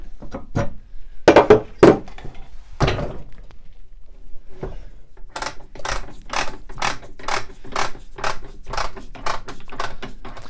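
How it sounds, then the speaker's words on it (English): A miter saw's bevel control being worked and the saw tilted over: a few heavy clunks and knocks, then a rapid series of sharp ratcheting clicks, close and loud, with no talking. "This control here allows me to bevel this saw and turn it over here after I take this fence out."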